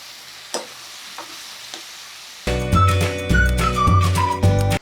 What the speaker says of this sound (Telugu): ఉల్లికాడలు చూసారు ఎంత నైస్గా కట్ చేశారో ఇదిగోనండి అవి కొంచెం వేగేయి రొయ్యలు వేసేస్తున్నాను